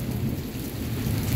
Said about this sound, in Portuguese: Tá um raio atrás do outro.